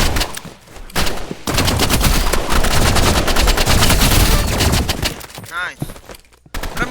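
Rifle and sniper fire in Roblox Rivals, a dense sustained burst of rapid automatic shots that fills several seconds, then a few sparser cracks, with players talking over it.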